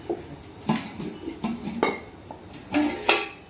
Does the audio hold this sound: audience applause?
no